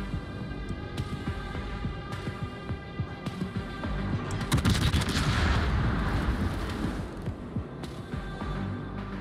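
Cruiser secondary guns fire in a naval video game, a loud stream of repeated booming shots over a steady low engine hum, with a denser burst of gunfire midway.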